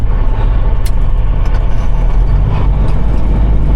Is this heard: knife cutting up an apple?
no